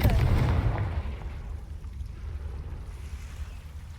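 A Confringo spell blast in a Harry Potter video game, a deep rumbling boom that starts loud and decays into a low, windy roar.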